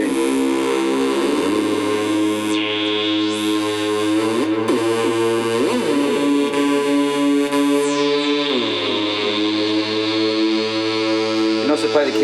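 A homemade light-controlled Moog-style synth drones on its own, sustained buzzy harmonic tones sliding and stepping in pitch with wobbling sweeps, loud and continuous throughout.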